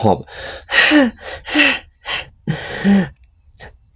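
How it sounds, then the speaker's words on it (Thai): A woman jolted awake in a rural home gasps and pants in a run of sharp, loud, close breaths, several quick heaves separated by brief pauses. "ก่อนที่จะสะดุ้งตื่นขึ้นมาหายใจหอบ"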